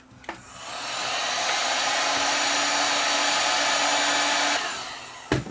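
Heat gun blowing hot air onto a plastic cable box, a loud, steady whooshing roar that spins up, holds for several seconds, then cuts off, with a click at each end.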